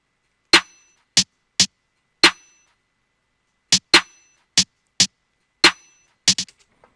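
Backing snare hits from an FL Studio R&B trap beat, about ten sharp, loud cracks alone in a syncopated pattern, ending with quick rapid rolls and decaying taps.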